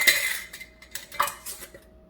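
Metal canning lids clink onto glass jar rims as a batch of sweet and sour pork and chicken is readied for pressure canning, with a sharp clatter at the start and several lighter taps and rattles after it, close by with no talk.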